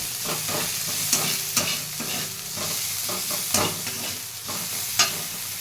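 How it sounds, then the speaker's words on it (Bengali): Onions and garlic frying in a pan, stirred briskly so the close, constant sizzle is punctuated by rhythmic scrapes and a few bright clinks of the spoon on metal. "আর একটু পেঁয়াজ। ভালো করে নাড়িয়ে চাড়িয়ে নেব।"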